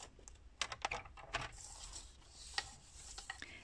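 Cardstock is being cut for a scrapbooking pop-up card, giving a quiet run of crisp clicks and scraping taps followed by a soft sliding rasp, close and faint, with no talking.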